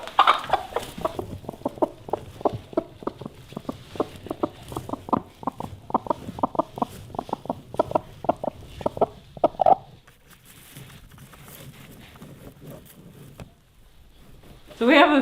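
Broody Icelandic hens cluck in a nest with a steady run of close, rhythmic clucks that trail off partway through, then give way to quieter rustling.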